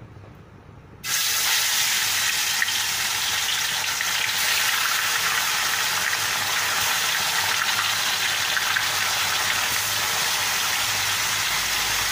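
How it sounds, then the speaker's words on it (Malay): Black pomfret fish frying in hot oil in a pan, a loud, steady sizzle that bursts in after a quiet first second and keeps going unbroken to the end, with no talking. "Kita goreng ikan"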